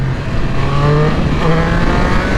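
A 2022 Triumph Speed Triple 1200 with an ECU flash tune pulls hard in track mode, its engine note loud and close in a steady roaring surge that rises slightly in pitch over two seconds.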